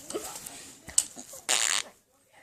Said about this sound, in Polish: nie pierdzieć.